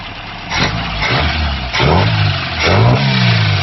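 A Pinto-engined kit car with a Weber 32/36 DGAV carburettor revs hard three times in succession, each rise in engine note easing back between bursts, loud and close with no talking.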